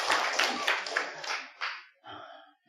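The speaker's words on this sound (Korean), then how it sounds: "박수 좀 쳐주십시오" Church congregation clapping at a revival meeting, a dense burst of applause that is loud at first, then thins and fades out into scattered claps.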